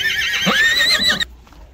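A horse whinnies loudly and close at a livestock market, a high wavering neigh lasting about a second before cutting off into quiet.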